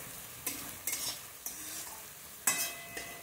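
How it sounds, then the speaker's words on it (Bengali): Chopped onion sizzles in hot oil in a pan for a Bengali fish curry, with several sharp scraping stirs of a spatula breaking through a low, steady frying hiss close by; no one speaks. "এই দেখুন পেঁয়াজটা প্রায় ভাজা ভাজা হয়ে এসছে।"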